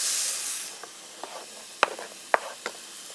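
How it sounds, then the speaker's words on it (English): Onion and green pepper sizzle in a frying pan with browned bits on the bottom, a soft steady hiss broken by a few sharp crackles and stirring clatters, close and moderately quiet. "We're going to go ahead and put our onion and green pepper"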